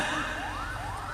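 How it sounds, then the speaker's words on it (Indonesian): An ambulance siren wails as it passes, its pitch sweeping up and down in a repeating cycle at moderate distance over steady traffic rumble, with no voices. "Oh, ambulan."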